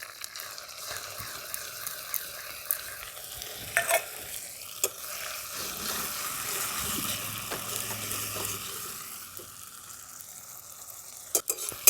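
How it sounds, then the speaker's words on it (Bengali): Ginger and green chilli paste with tomato paste stir-fried in hot oil, a soft continuous sizzle with scraping spoon strokes and occasional clicks, fairly quiet and with no voices. "এবার এগুলো সব একসঙ্গে তেলের মধ্যে খুব ভালো করে আমি কষিয়ে নেব"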